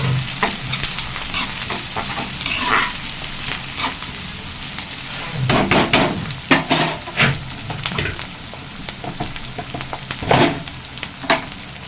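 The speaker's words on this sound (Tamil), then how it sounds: "அது கூடவே கருவேப்பிலை போட்டு நல்லா வதக்கி" Onions and curry leaves sautéing in oil for chicken gravy, with a continuous sizzle and repeated louder bursts of stirring and spatula scrapes against the pan, close and with no talk.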